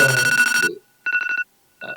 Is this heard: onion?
no